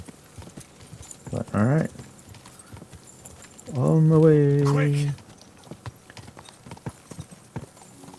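Horse hooves clip-clopping at speed in the medieval video game Kingdom Come: Deliverance 2, a steady close patter under brief speech, with a drawn-out tonal game sound in the middle.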